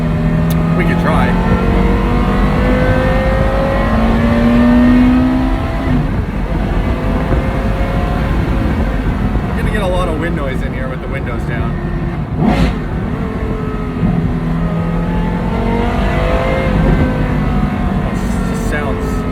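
A Porsche Carrera GT with a titanium X-pipe exhaust revs and accelerates from inside the cabin, its rising, high-pitched engine note heard through heavy wind buffeting from open windows, with a person talking over it.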